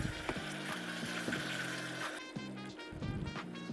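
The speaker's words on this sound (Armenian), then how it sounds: "Ավելացնում ենք բանջարեղենային արգանակը։" Vegetable broth poured into a pan of pumpkin risotto seasoned with salt, black pepper and rosemary, giving a steady hissing sizzle and trickle throughout, with background music underneath.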